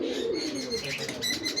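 Biscuit-coloured pigeons coo in a low, rolling rhythm at close range, with faint chirps and a light rustle of wings.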